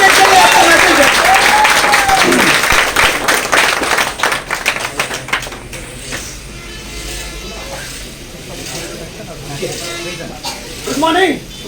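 An audience claps loudly to welcome a speaker onto the stage at the opening of Bhagalpur Wonder World. The dense applause runs for about five seconds under a voice, then thins out while people talk.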